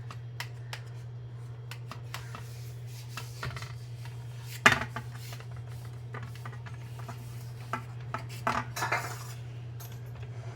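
Fasting-style dhokla being cut into pieces in its pan, with intermittent light knife taps and scrapes, one sharper clink partway through, over a steady low hum.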